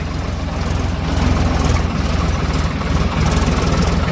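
A Swaraj 855 4WD tractor engine runs with a close, steady, low diesel rumble and even throbbing pulses, heard alone without voices.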